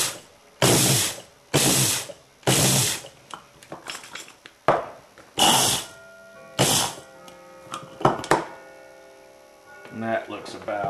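Electric grinder pulsing sesame seeds on its grind setting: several loud, roughly one-second whirring bursts, then shorter stop-start pulses with rattling and clatter in the gaps.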